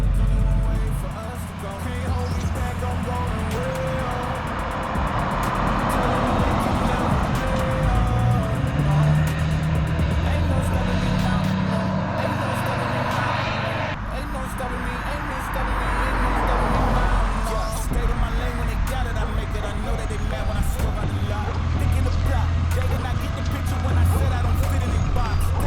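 A lowered Ford F350 dually pickup drives down the road, its engine and tyre rumble steady and close inside the cab throughout, with people talking over it.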